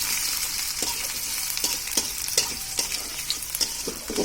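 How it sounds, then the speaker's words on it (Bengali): Onion sizzling and crackling steadily in hot oil, with a spoon or spatula scraping the pan in regular strokes. "কুচি করা পেঁয়াজ কাটা মিষ্টিটা দিয়ে দিলাম। এখন একটু হালকা ভাজা হলে তাতে যাতে পানি অ্যাড করবো।"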